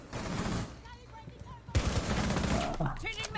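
Shotgun blasts tear through a wall in Rainbow Six Siege on the Skyscraper map, sharp loud bursts over constant gunfire and game noise, with people talking throughout.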